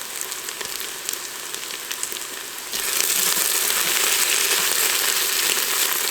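Garlic is tossed into a pan of browned onions for French onion soup, and a steady frying sizzle jumps suddenly louder and brighter, holding as a continuous hiss with no talking.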